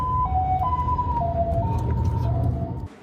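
Ambulance siren wailing near a fire and explosion scene in Luodong, Yilan, a loud two-tone alternating wail cycling steadily before cutting off abruptly at the end.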